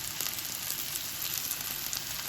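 Dried chillies and curry leaves sauté in oil, a steady even hiss of frying that carries through without pauses or talk.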